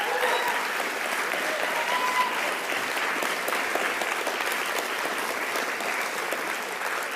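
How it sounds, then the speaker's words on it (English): Steady, moderately loud audience applause for award nominees standing at the Northern Territory Australian of the Year ceremony, an even, sustained roar of clapping from a large crowd. "let's give them an amazing round of applause"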